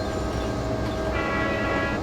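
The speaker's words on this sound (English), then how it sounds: "There's another tanker train" Rumbling, broadband roar of a tanker train rolling past in a train simulator game, with a steady low rumble and a brief higher tonal hum partway through, continuous and fairly loud with no talk.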